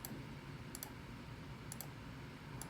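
Calculator buttons are pressed, a few faint, sharp clicks in quick pairs spaced apart over quiet room noise.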